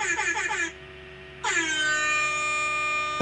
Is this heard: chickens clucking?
no